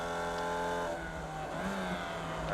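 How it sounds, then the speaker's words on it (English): A Formula Vee race car engine braking at Phillip Island in iRacing, the engine note droning loud and close and sliding down in pitch as the revs fall, with no talk. "A lot of engine braking so you don't slide that car."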